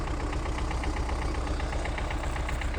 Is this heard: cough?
no